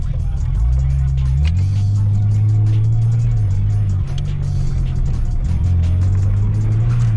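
A BMW E39 with the M50B30 straight-six and a straight-through exhaust idles with a steady, fairly quiet low drone, pitch stepping up briefly as it revs, while someone talks nearby.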